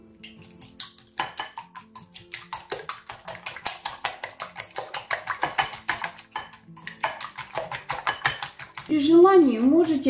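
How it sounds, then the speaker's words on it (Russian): Two raw eggs are whisked quickly in a bowl, giving a steady, rapid clatter of light clicking taps that grows slightly louder, with a voice talking near the end. "Пока сковородка греется, мы взбиваем 2 яйца сырых."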